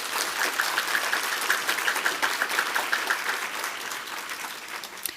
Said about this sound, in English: Please join me in giving all of our distinguished guests a warm round of applause.